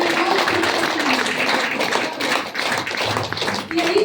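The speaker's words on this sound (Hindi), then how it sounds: "और बहुत जोरदार ताली चाहिए" Dense, steady clapping from a crowd at a DXN meeting in Badlapur fills the whole stretch, a broad wash of applause that stays loud throughout with slight dips.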